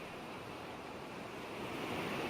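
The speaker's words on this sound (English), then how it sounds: "The waves are washing against the shore." Ocean waves wash steadily against a beach shore, a continuous broadband surf rush that swells slightly louder toward the end, with no voices.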